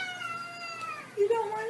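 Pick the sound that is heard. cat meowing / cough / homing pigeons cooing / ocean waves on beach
cat meowing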